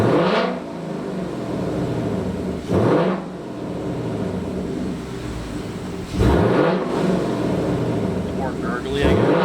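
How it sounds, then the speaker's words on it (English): 2023 Ford Mustang GT with a $150 exhaust mod revving repeatedly, loud rumbling blips rising and falling in roughly three bursts with gurgly decel, voices talking over the engine throughout. "It's definitely more rumbly, as you can hear."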